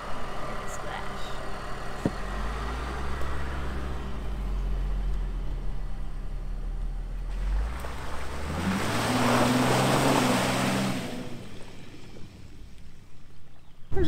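A Honda Pilot's engine rumbles low, then a loud rushing splash of water surges for a few seconds as it drives through water on a rutted forest road, before fading back to the idling motor.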